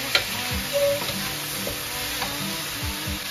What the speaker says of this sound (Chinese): 炒了两三分钟后，最后再放入彩椒下去炒